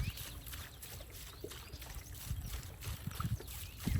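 Water poured from jugs onto freshly transplanted daylilies in a garden gives a soft, steady splashing and trickling, faint and continuous against low outdoor rumble.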